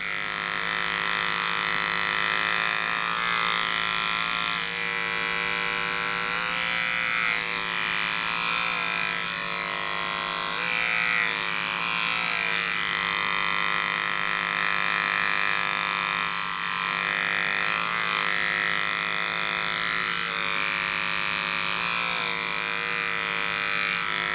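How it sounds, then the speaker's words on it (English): Electric clippers buzz steadily while shaving up a poodle's foot against the grain, a loud, close, continuous motor whine with slight changes in pitch as the blade moves through the hair, no talk. "I bring it up underneath, pull the hair back out of the way, and shave all this up against the grain, level with my front clipper work"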